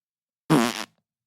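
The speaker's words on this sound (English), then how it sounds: "with a final fart" A single loud, close fart lasts under half a second and sits alone between stretches of silence.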